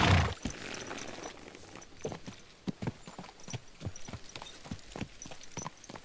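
Horse hooves clip-clop at a steady walking rhythm in the medieval game Kingdom Come: Deliverance II, fairly close and moderately loud, with a brief rustle at the start and no talking.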